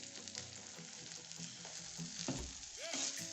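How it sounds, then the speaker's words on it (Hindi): An onion and cheese stuffed paratha cooking in ghee on a low-heat pan gives a steady, close sizzle with faint scraping and spreading sounds, no speech over it. "अब हम इस पर घी लगाएंगे, हल्का सा घी लगाना है"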